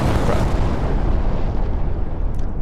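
An ACF weapon firing in Garry's Mod, a loud sustained blast with a long rumbling roar and noisy wash that slowly fades, with a faint high tone at the end.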